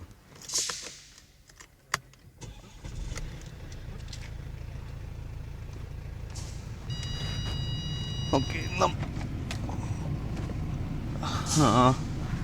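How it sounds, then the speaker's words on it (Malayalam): A 2014 Mercedes-Benz C-Class cranks and fires up around the three-second mark, settling into a steady low idle that runs on beneath occasional talking and interior clicks. "നമുക്ക് ഈ വാഹനം ഒന്ന് സ്റ്റാർട്ട് ചെയ്ത് നോക്കാം."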